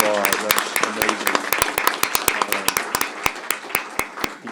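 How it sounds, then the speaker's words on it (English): Audience applauds at a county commissioners court meeting for a state championship winner, a burst of sharp individual claps from a modest crowd, loud at first then thinning out. "let's give her a round of applause"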